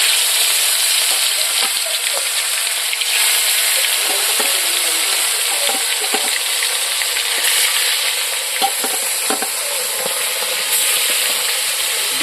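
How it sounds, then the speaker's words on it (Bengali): Koi fish frying in hot oil in a pan, a loud, dense, continuous sizzle and hiss with occasional crackles and light stirring sounds throughout. "তেল তো গরম হয়ে গেছে, এখন মাছটা তেলে ছাড়ি দিব।"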